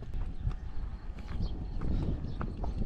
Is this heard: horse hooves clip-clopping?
yes